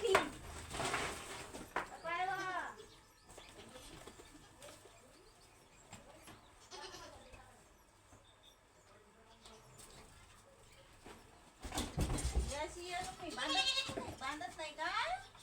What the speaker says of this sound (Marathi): एकही बकरी कुठ्यावर नाही थांबत.